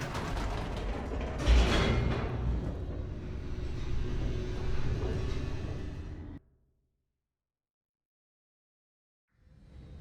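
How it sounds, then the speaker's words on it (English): Elevator descending in the video game The Stanley Parable: a steady mechanical rumble with creaks and faint ratcheting, loud for about six seconds, then abrupt silence before the hum returns at the end. "The elevator raced downward, plummeting towards an unknown fate."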